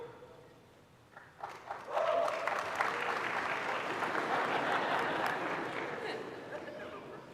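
Applause from an audience at a graduate school hooding ceremony swells after a quiet start into loud, sustained clapping from a crowd, then tapers slightly while it continues.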